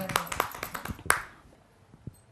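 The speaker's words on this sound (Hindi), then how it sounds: "एक बार मैम के लिए जोरदार तालियां।" A few scattered hand claps from the audience at a kavi sammelan poetry recital, a handful of sharp, close claps that quickly thin out into near silence with one faint tap at the end.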